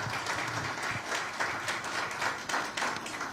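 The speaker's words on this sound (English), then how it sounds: "shall we appreciate King Takita Ikochu II with another resounding round" Audience applause for King Takita Ikochu II, the Ga Mantse, at a courtesy call by the Mayor of London; steady, dense clapping from a large crowd fills the whole stretch at moderate level.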